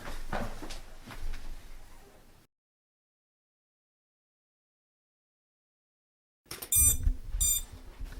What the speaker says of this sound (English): the motors are beeping right now because they haven't spun in a long enough time